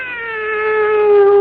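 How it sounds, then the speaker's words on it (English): A cat's drawn-out meow in a radio mystery drama, a single sustained tonal cry that swells louder over about a second and a half, with no talking. "Meow."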